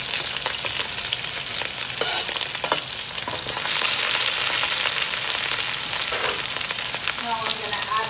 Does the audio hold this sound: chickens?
no